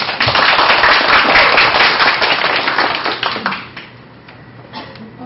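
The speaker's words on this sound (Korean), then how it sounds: "큰 박수 부탁드리겠습니다" Dense, loud audience clapping at a youth forum on clean media, greeting a high-school student presenter; steady applause for about three and a half seconds, then fading to scattered claps.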